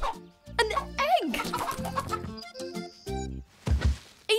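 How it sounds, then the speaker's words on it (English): A cartoon chicken clucks and squawks in a bouncy series of calls, mixed with musical stings and a few hollow thunks, loud and alone with no talking over it. "Look, the chicken is back."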